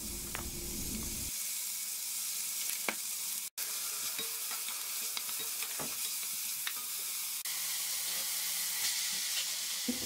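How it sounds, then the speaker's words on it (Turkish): Onion and garlic frying in olive oil in a pot, a quiet steady sizzle with occasional stirring clicks and small pops, close and alone. "Soğan ve sarımsağı aldım. Hafif rengi sarıya dönene kadar kavurdum."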